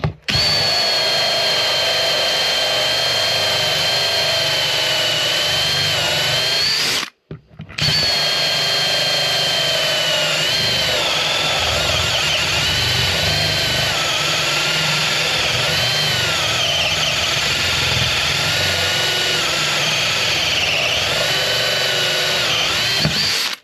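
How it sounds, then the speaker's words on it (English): A Ferrex hole saw grinds through MDF in a loud, steady power-drill whine, running continuously apart from one brief stop about a third of the way in, then resuming and bogging slightly as the cut slows. "MDF is notoriously difficult to drill through with hole saws"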